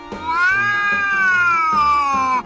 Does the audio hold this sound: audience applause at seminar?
no